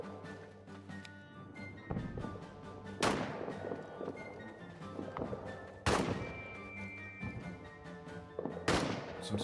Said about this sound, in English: Some suppression fire down.